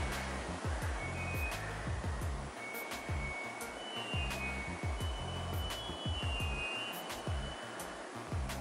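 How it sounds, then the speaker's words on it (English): A domestic washing machine churns indoors with a steady whooshing hum and repeated low thumping surges, a mechanical drone heard alone at moderate volume. "that was my washing machine"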